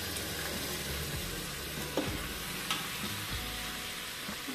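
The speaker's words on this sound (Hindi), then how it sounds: "तो हमारा प्याज भून चुका है, अब हम इसमें डालेंगे अपनी मूली जो हमने कद्दूकस करके रखी थी" Grated radish with browned onion frying in a pan gives a steady close sizzle throughout, with a couple of soft scraping stirs and no voices.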